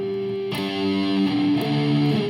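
Distorted electric guitar plays a riff, sustained power-chord tones shifting in a steady pattern with a slide between positions, loud and up close with no talking.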